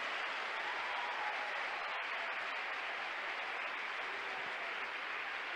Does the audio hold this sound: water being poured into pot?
no